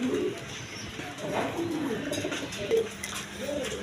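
Indian Bombay pigeons, some yellow, coo softly in low rolling phrases at a pigeon seller's coop, with faint clatter and room noise around them.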